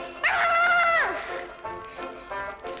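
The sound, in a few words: voice imitating puppy barking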